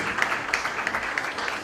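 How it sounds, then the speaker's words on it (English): Audience applause at a Nigerian Independence ball and dinner, steady dense clapping throughout with a few sharper individual claps standing out, moderately loud and without speech. "please, one more time, give a round of applause to them"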